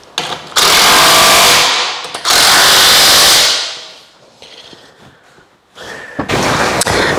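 An automated sawmill power tool rattles a part on in two loud, harsh bursts that fade, followed by quieter clatter and a final burst starting up, with no speech.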